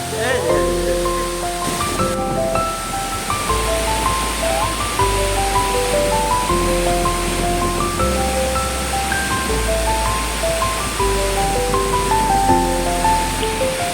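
A forest waterfall pours into a pool with a constant, dense rush of water. Loud music with a melody and a deep bass line plays over it throughout.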